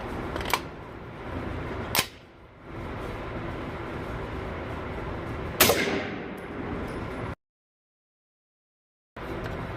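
Suppressed Sig MPX short-barreled rifle firing 158 grain Fiocchi ammunition inside a small metal enclosure, three sharp reports spread over several seconds against a steady background hum, with a brief stretch of silence near the end.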